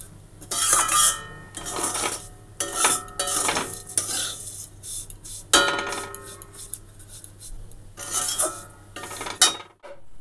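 A utensil stirring and scraping food frying in ghee in a metal pan, with repeated bursts of clinking and scraping over a faint sizzle.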